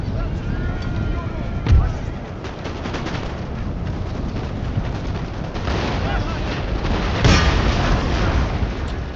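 Cannons fire in the video game Empire Total War, deep booms standing out over a constant battle din of gunfire and rumble, with a louder blast near the start and another later, while a person talks over it.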